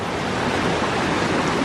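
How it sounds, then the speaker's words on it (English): Creek water rushes over rocks along a stream on the Fagan Springs Trail in Monte Sano Nature Preserve, Alabama, a steady, loud broadband wash with no breaks or voices. "Walking straight up the stream on some rocks."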